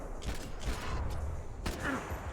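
Gunfire in Max Payne 3 comes as a run of sharp shots over a continuous rumble of combat noise, with a few clearly separated cracks standing out.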